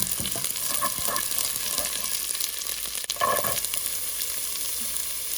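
Chopped ginger and finely cut curry leaves fry in hot oil in a pan, a continuous crackling sizzle with occasional stirring scrapes and a brief louder burst partway through.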